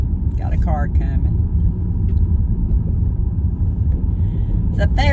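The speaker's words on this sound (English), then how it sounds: "Got a car coming." A car passes on a narrow country road at night, a steady low engine rumble swelling and fading while someone talks over it in brief bursts.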